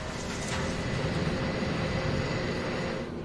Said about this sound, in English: OK, engine start and push back.